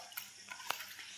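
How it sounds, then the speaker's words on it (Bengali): Kashmiri chili powder and spices for pumpkin leaf sidol are stirred in a pan, giving a faint sizzle with a few light scraping taps of the spoon. "কাশ্মীরি লঙ্কার গুঁড়ো, এইসব দিয়ে নাড়াচাড়া করে নেব।"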